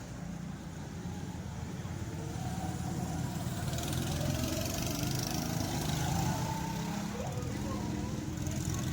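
A go-kart engine drones at a track in a gaming zone, a steady mid-pitched motor hum that rises slightly, under excited voices talking.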